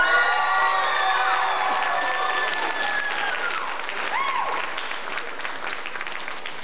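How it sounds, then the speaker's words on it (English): Loud, sustained applause from a school auditorium audience at a high school spring chorus concert, mixed with cheering and scattered whoops and children's shouts, slowly easing off. "Can we just give them one more round of applause?"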